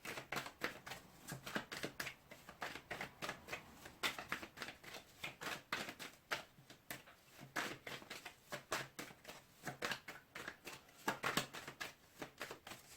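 A deck of tarot cards is shuffled by hand in a steady run of crisp riffling flutters and soft taps, close and fairly quiet, with no talking.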